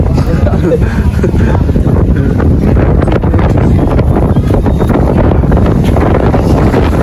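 Strong wind roaring across an outdoor patio-like stop in Infanta, Quezon, a loud continuous buffeting rush battering the microphone throughout, steady and unbroken.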